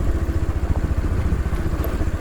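A motorbike rides through a rural village after days of rain, its engine putting out a close, continuous low rumble and chug with no voices.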